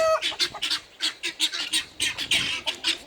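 Brahma and Cochin chickens squawk and cluck close by in a rapid string of sharp, loud calls, several birds overlapping in a busy, uneven rhythm.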